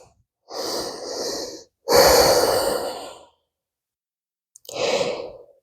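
Slow, deep breaths taken during a seated yoga stretch: a long inhale, a longer full exhale, then another inhale after a pause, close and clear with no talking.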